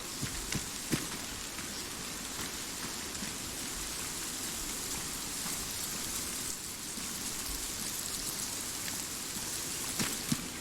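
Rain pours steadily across a jungle island map in the military shooter Arma 3, an even hiss of drops on surfaces lasting throughout with a few louder patters.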